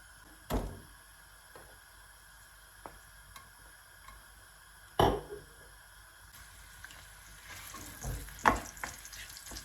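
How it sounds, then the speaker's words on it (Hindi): Ingredients frying in hot oil in a pan for peas pulao give a low, quiet sizzle, broken by a few sharp clatters and knocks from the pan and utensils. "इनको फ्राई होने देंगे।"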